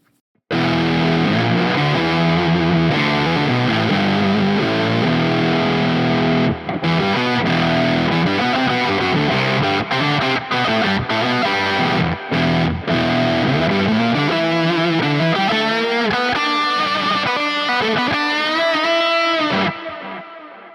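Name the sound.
electric guitar through Neural DSP Nano Cortex, lead octaver preset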